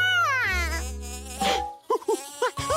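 A short, close, buzzing drone of a cartoon bee, followed by squeaky cartoonish vocal sounds; brief and loud.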